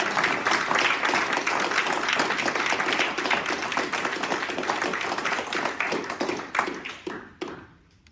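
Steady round of applause from an audience at a Royal Humane Society awards ceremony, dense clapping throughout that thins out and fades in the last seconds.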